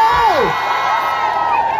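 Crowd cheering and shouting loudly for Baba Shiko at a lively gathering, a sustained close roar of voices with whoops rising and falling, brief and continuous throughout.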